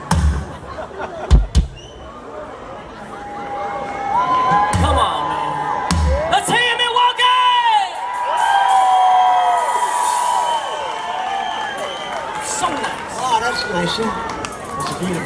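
Milwaukee concert crowd cheering and whooping for a performer, a loud sustained roar with shouts rising and swelling through most of the stretch, with someone talking over it at the start.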